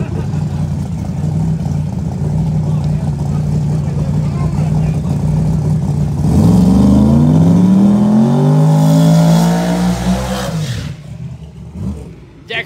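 The Wolverine 2 race car at Bradenton Motorsports Park during a testing session: a loud engine holds a steady drone, then revs up and sweeps in pitch as it passes close by, then fades and cuts off.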